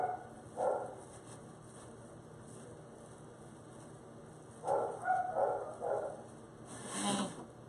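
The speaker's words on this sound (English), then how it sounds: "My dogs are barking at your dogs." Several dogs barking in short bursts from a distance inside a home, faint yips and barks spaced out across the clip with quiet gaps between.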